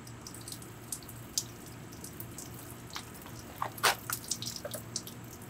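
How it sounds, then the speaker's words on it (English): Water poured from a bucket onto a Bestop Trektop Glide soft top on a Jeep Wrangler JKU trickles and drips along the drip rail, a quiet patter of scattered drops with a brief splashier burst midway over low background hum. "Water will run down this drip rail and right down here."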